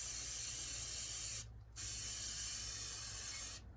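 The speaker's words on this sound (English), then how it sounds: "So I'm just gonna spray it on there." Two long bursts of K&N oil aerosol spraying onto a motorcycle air filter, hissing close up, separated by a short pause, with another brief break at the end.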